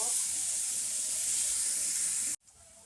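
Onion and garlic sautéing in hot oil in a pan, a steady loud sizzling hiss that cuts off abruptly near the end.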